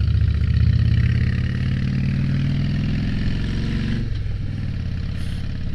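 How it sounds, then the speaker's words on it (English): A motorcycle fitted with short shot exhausts rumbles steadily in a deep, throaty drone, loud and close, easing slightly toward the end with no talking. "I actually have the short shot exhausts on here"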